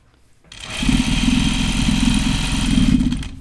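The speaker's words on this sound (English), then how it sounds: "I'm just roll hemming this." A sewing machine running steadily while roll hemming a skirt, a loud close continuous whir with a fast mechanical chatter that starts abruptly and holds for several seconds without speech.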